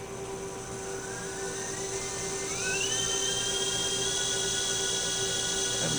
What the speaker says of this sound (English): we're going to spin up motors again